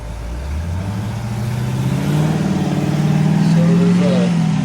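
Engines of a Cadillac CTS-V and an Audi R8 at a street race, a low rising drone building steadily as the cars accelerate and draw nearer.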